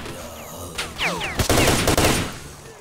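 Bursts of gunfire in S.T.A.L.K.E.R., several loud close shots clustered together with sharp whizzing sweeps and chaotic combat noise between them.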